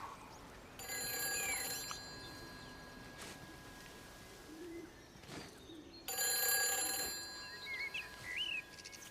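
An old-style telephone bell rings in two long bursts inside the video game Everybody's Gone To The Rapture, set in a quarantined village, with birdsong and quiet ambience between the rings and no voices.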